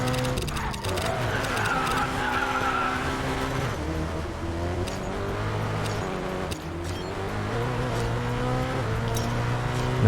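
A car spins out in the Racing Master video game, engine droning loudly with tire squeal and skidding throughout, continuous and close with a faint voice beneath.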